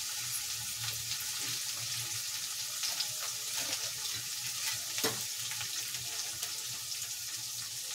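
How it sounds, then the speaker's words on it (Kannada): Onions and garlic fry in a pan with a continuous close hiss and sizzle, a few brief crackles and stirring scrapes breaking through, and no voices. "ನೋಡಿ, ಇವಾಗ ಚೆನ್ನಾಗಿ ಫ್ರೈ ಆಗಲಿ."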